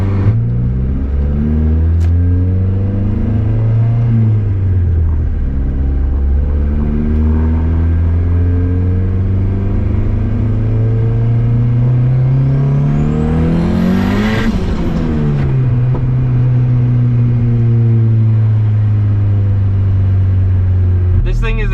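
Turbocharged Honda Civic daily driver accelerating on the road, engine note rising through the gears in loud sustained revs, with a brief turbo whistle and shift midway, heard from inside the car.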